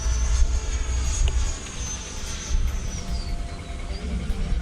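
A Freewing F-5N Tiger II 80mm electric ducted-fan RC jet flies overhead, a continuous rushing whine with a high tone that slides downward as it passes, heard outdoors at moderate distance with low wind rumble.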